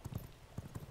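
Horse hooves clip-clop in the video game V Rising, a few soft, quick thuds close together, faint and brief.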